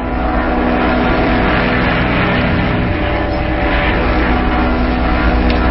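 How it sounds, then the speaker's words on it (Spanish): Airplane engines drone in a steady, loud, unbroken roar that holds its level throughout, with no voices present. "El mismo ruido de los motores del avión parece disminuir en sus oídos"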